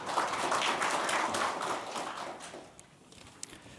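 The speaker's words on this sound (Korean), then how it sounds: "모두 함께 박수로 시작하겠습니다" Opening applause from attendees at a Korean National Assembly forum on the May 18 spirit and the constitution's preamble, a moderate crowd clapping that swells briefly and then tapers off, quieter toward the end.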